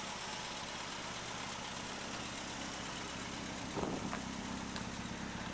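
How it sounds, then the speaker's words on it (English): A JC Midge car with a homemade straight-through exhaust idles close by, giving a steady, throaty low rumble that swells slightly for a moment near the end; no one speaks. "That's the exhaust note."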